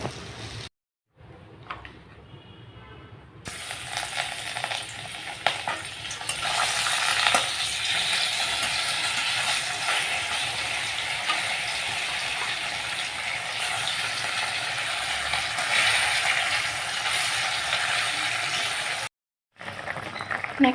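Sizzling and stirring of a Bengali fish curry with vegetables cooking in a pan at home, a steady close frying hiss running throughout with a brief pause near the start and another near the end.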